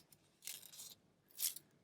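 Scissors snip through paper while a Halloween pumpkin garland is cut out: two quiet, crisp cuts, one long and one short, close by in a still room.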